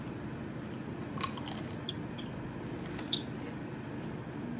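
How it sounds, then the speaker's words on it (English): Faint crisp crunches of Colombian Doritos corn chips being bitten and chewed, a few scattered close snaps over a low steady background murmur. "Okay, so Angel's gonna try to eat chips for the first time. Doritos. These Colombia Doritos."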